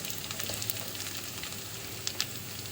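Onions for a tomato chutney fry in a pan with a dense, even sizzle and crackle, close and steady, with a couple of brief stirring scrapes near the end.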